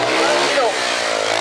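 A trials motorbike engine revs hard while the rider holds a wheelie, a brief, loud, buzzing high-pitched whine that rises and dips slightly over a little more than a second.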